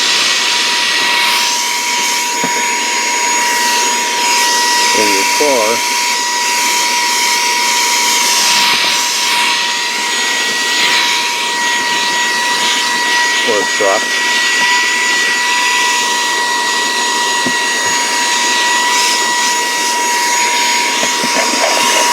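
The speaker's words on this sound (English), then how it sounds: "For vacuuming all those little crevices" A small Saker 3-in-1 handheld vacuum motor whines steadily at close range with a high, droning hum, while a voice talks briefly over it.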